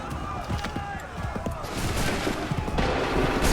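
Soldiers' musket volley in Assassin's Creed III during the American Revolution, a dense crackle of overlapping shots with battle noise, busy and loud, building toward the end.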